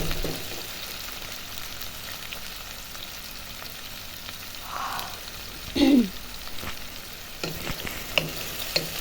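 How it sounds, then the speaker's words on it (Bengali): Onions frying in oil to a brown crisp for chicken rezala, a continuous close sizzle with occasional scraping stirs and a brief louder burst midway, no voices. "আমি এখন পেঁয়াজটা ভালো করে বাদামি কালার করে ভাজবো"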